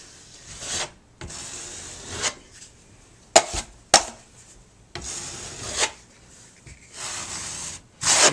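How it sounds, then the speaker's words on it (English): Drywall knife pressed firmly and scraped over joint compound on tape while patching a wall, giving repeated close rasping strokes separated by short pauses, with a few sharp clicks. "I'm going to be holding the tape and then pulling the mud out, kind of pressing firmly."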